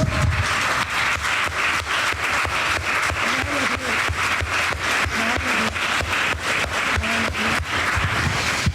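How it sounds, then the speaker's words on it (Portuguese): Church congregation at a Sunday service applauding God, loud, dense, sustained clapping from many hands with an even, rapid rhythm throughout, some faint voices mixed in. "Você pode aplaudir o Deus, nosso Deus?"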